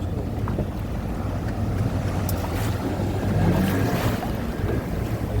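A small tourist boat pushes through strong waves between two rock patches off the Konkan coast near Vengurla, with constant loud wind buffeting, rushing water and slapping surf filling every moment.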